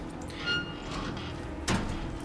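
A closet door in the Hitman video game slides and bumps shut, a faint short knock over a quiet game background.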